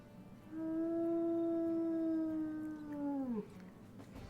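A single long wolf howl from the WolfQuest video game, a clear sustained tone held steady for nearly three seconds before bending downward at the end, heard alone and fairly close.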